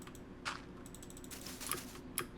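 A loud computer keyboard clatters with quick bursts of keystrokes, a few sharper clacks standing out over a faint steady background hum.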